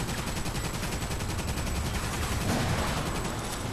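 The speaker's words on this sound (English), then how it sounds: "No, it's big artillery." Heavy artillery fire in the Toy Soldiers: War Chest video game, a dense, continuous barrage of rapid booming blasts that holds loud and steady throughout.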